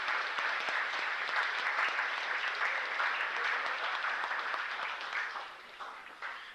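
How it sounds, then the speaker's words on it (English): Sustained applause from a sizable audience at a high school fall sports banquet, even and full, slowly tapering off toward the end. "So if we could give them a big round of applause and a thank you."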